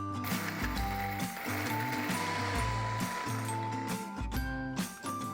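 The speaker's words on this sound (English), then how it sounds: "Let's grind this into a fine powder or a coarse one" Lemon zest and salt ground together into a spice mix, making a steady, close mechanical grinding with rhythmic ratcheting turns throughout, and no one talking.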